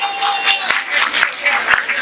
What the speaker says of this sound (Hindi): तालियां बजाएं गाइस